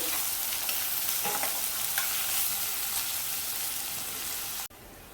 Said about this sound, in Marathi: आता यामध्ये मी कांदा घालते कांदा थोडा हलकासा मऊ करून घेते